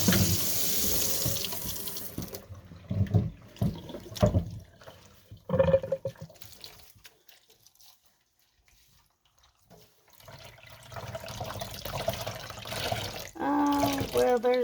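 Warm tap water runs into a sink while dyed acrylic/wool yarn is rinsed. A steady gush at first gives way to scattered splashes and drips, then a near-silent pause, and the close, loud flow returns at the end.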